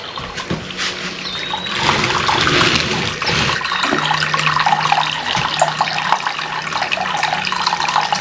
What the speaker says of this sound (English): They think it's fresh running water.